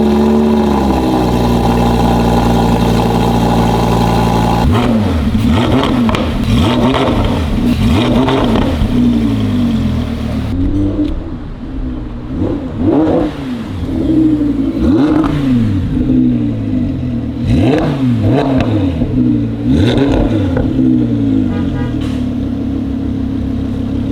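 An Audi R8 with a performance exhaust system is revved repeatedly. Sharp, loud bursts rise and fall over a rumbling idle, close by and without speech.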